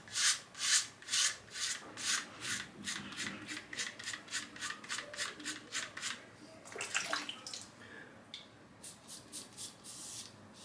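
Close, rhythmic rasping strokes of a razor fitted with a skin guard shaving a head against the grain on an old, long-used blade, about twenty quick scrapes in steady bursts with a brief pause midway, no talking.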